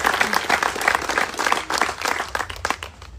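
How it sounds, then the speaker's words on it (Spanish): Audience applause at a Guatemalan political party gathering, a crowd clapping steadily and fairly close for about three seconds, with some voices mixed in and the clapping thinning toward the end. "les pido un aplauso"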